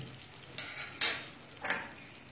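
In a pan of potatoes, spices and ginger paste are stirred in with a metal utensil, giving a few sharp scraping clinks against the pan that are close and separate, over a quiet background.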